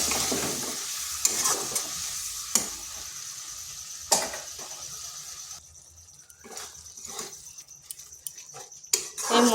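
Masala spices frying in a pan with a splash of water, producing a soft, steady sizzle broken by intermittent stirring scrapes and clatters of the spoon, close and moderately quiet.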